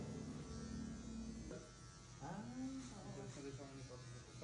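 Electric hair clippers buzz steadily during a clipper-over-comb taper haircut, a close mid-level hum running throughout while someone talks over it.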